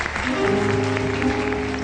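Applause from a morning talk-show studio audience, a short steady wash of clapping with a faint tone and some background voice.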